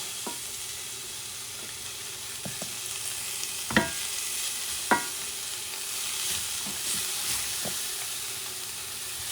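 Collard greens sauté with garlic in a hot pan for Brazilian couve à mineira, a soft steady sizzle and hiss broken by a few sharp clicks and scrapes of stirring, with no talking.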